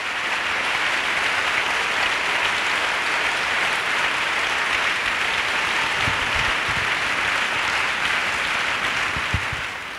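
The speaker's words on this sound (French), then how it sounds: "Acclamons pour Jésus-Christ." A church audience claps steadily for Jesus Christ, a dense, continuous burst of applause filling the whole span at moderate loudness, with a few scattered low thumps near the end.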